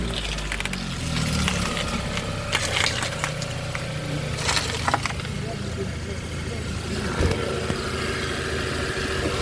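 A 2018 Chevrolet Equinox with a 1.5 engine, damaged after going into a ditch, runs with a steady low engine drone and intermittent rattling knocks while people talk nearby.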